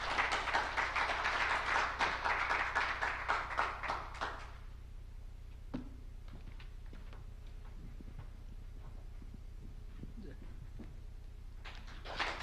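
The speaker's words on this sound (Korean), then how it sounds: "박수로 함께 해주시기 바랍니다." Audience clapping welcomes Ilsung Global's chief executive, Kim Wook-jong, at a 2022 corporate investor-relations briefing. A dense burst of applause lasts about four seconds, then tapers into a quiet hall with faint scattered sounds.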